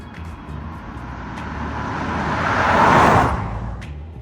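A Subaru Forester e-Boxer hybrid SUV in sports mode gives a steady engine and road drone from inside the cabin, swelling louder toward the middle and then easing off.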